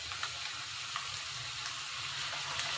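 Gongura leaf paste frying in hot tempering oil gives a steady, even sizzle throughout, close and moderately quiet, with no voices.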